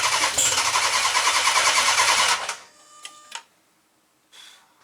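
A Magnum's engine cranks hard for about two and a half seconds with a loud, steady starter whir, fails to catch and cuts off, leaving a few faint clicks and a short soft rumble afterward.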